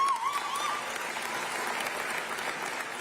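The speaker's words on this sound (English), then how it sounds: "A proposal, as you can hear, led to some applause." Sustained audience applause fills the chamber during Tennessee Gov. Bill Lee's 2023 State of the State address, a steady dense wash of many clapping hands at moderate distance with no talk over it.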